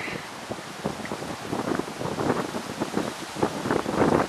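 Wind gusts across a microphone outdoors on a hot summer day beside a newly finished door installation, a steady broadband rush with rising and falling buffets that grow stronger toward the end, no talking.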